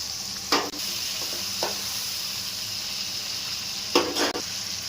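Ginger garlic paste and turmeric fried in a pan for chicken curry, with a steady sizzle and a few brief stirring scrapes.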